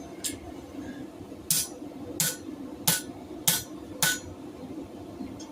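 Six sharp metallic hammer strikes on a metal bottle opener, fairly evenly spaced, ringing out close by over a low background hum.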